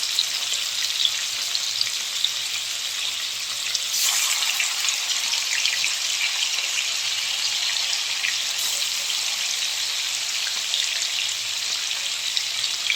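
Paneer pieces frying in a pan, a steady close sizzle that runs the whole time with no talk over it.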